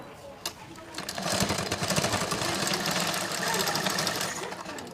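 A sewing machine stitching a drawstring onto a blouse, starting after a brief pause and then running in a steady, close, rapid mechanical clatter, with a voice faintly under it.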